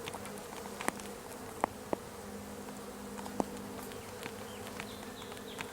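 Bees hum steadily inside an opened beehive, a continuous low drone with a few sharp clicks and knocks near the hive as frames are handled.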